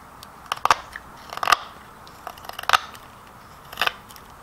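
Carving knife making stop cuts into wood while carving a wood spirit, a few sharp, separate crisp cracks and snaps spaced irregularly, close and fairly quiet, with no talk.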